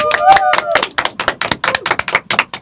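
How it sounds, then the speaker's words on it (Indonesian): A studio audience claps in a talk show setting, a burst of dense, irregular handclaps lasting a few seconds, with a voice speaking over the opening moments before the clapping carries on alone. "Tepuk tangan semua yang hadir di studio."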